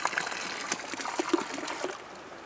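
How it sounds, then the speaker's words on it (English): Water flows out of a pipe into a tank in a steady trickling, splashing stream, close and moderately loud, with small bubbling gurgles throughout. "God, that's quite a good flow, isn't it?"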